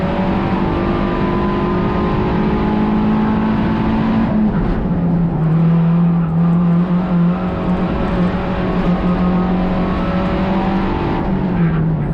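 A 2 litre race car is driven hard around the inner circuit at Blyton Park, its engine loud and close, rising and falling in pitch through gear changes, with a harsh rasping note throughout.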